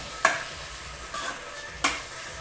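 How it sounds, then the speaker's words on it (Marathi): Vegetable curry with coriander being stirred in a pan: three separate spoon scrapes against the pan, close and distinct, over a faint, steady background sizzle, with no voices. "आपण आता त्यावरती कोथिंबीर टाकून घेऊ मिक्स करून घ्यायची"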